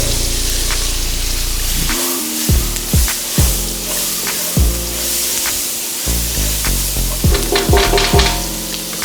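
Onions cooking down in butter in a pan for seafood boil cabbage, a steady sizzle and hiss broken by repeated thumps and clanks, with no talking.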